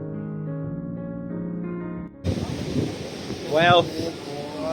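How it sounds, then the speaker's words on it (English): Strong wind buffets the microphone on a coastal mountain overlooking the open blue ocean, with a broad roar of waves and gusts, loud and close, following a stretch of steady tonal sound before it. "You can hear the sound of the waves, feel the strong wind"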